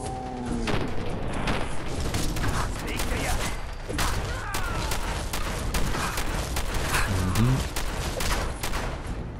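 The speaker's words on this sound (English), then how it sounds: "This is an endless shotgun" An automatic armour-piercing shotgun in Fallout 4: Far Harbor fires rapid, continuous heavy blasts amid a chaotic firefight, while a voice talks over the shooting.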